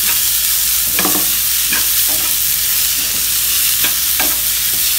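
Grated coconut fries in a pan, loud steady sizzling broken by a handful of scraping stirs of a spoon.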